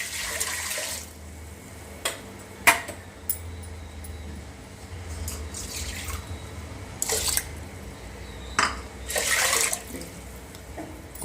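Water is poured into a pressure cooker holding chopped bottle gourd and raw rice, with soft continuous trickling broken by several brief louder splashes and drips, close by and with no talking.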